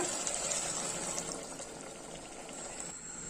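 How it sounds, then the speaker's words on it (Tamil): A tumbler of water pours steadily into a pressure cooker of fried masala for Kolkata-style mutton biryani, a continuous bubbling gush with a faint hissing sizzle underneath, close and moderately quiet. "இப்போ இந்த டம்ளர்ல ஒரு டம்ளர் தண்ணி ஊற்றிக்கலாம்"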